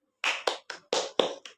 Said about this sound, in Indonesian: Sekali lagi kita berikan tepuk tangan untuk kelompok 1